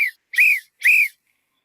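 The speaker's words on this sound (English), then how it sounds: "the lifeguard blows his whistle" A lifeguard's whistle on a beach sounds three sharp, shrill blasts, one short and two longer, each clean and close with silence between.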